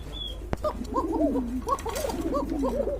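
A pair of Koka pigeons coo close by, rolling out a run of low bubbling phrases in a steady rhythm, with a sharp knock and a brief high whistle just before.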